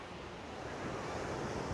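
Ocean surf rolls onto the beach at the US/Mexico border near Tijuana, a steady, close wash of breaking waves with wind noise on the microphone.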